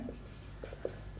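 Marker or chalk strokes on a board during a biology lecture, a few short scratchy taps and squeaks close by, fairly faint, with no speech.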